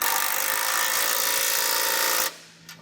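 A socket wrench snugs down bolts on a Demco tabless base plate fitted to a 2015 GMC Canyon, giving a continuous close ratcheting whir for about two seconds before stopping abruptly.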